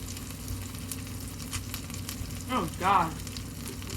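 Slices of French toast fry on a griddle with a steady, soft sizzle, quiet and close, briefly interrupted by a short spoken exclamation.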